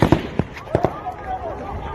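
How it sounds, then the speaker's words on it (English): Live gunshots are fired at protesters during a street protest against police in the FCT: a quick burst of about five sharp cracks in the first second, fairly close, followed by a few fainter later sounds. Voices can be heard around the shots. "You can hear gunshots."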